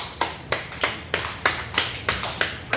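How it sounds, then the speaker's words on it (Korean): A congregation at a Korean Baptist church claps during a Sunday sermon, about eight loud, evenly spaced rhythmic claps in a steady beat with no talking. "이때는 박수를 한번 치는 거 좋습니다"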